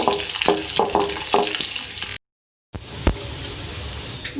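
Onion, red chilies and cumin frying in ghee for a tempering, a steady broadband sizzle with a few stirring scrapes, cut by a brief gap before the sizzling resumes close and even.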